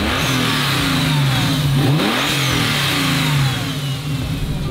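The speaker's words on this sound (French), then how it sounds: "Top départ de Jason" A racing car engine revs hard at the start of a qualifying run, a loud, steady mid-range roar with rising and falling pitch sweeps that fades slightly near the end.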